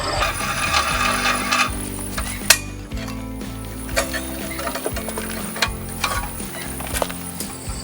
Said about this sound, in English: I'm just going to go ahead and remove these tanks and get them out of the way